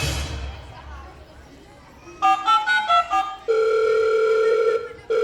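A telephone rings repeatedly and goes unanswered in an indoor domestic scene from a school play about an old age home, loud electronic ring bursts following quieter background sound.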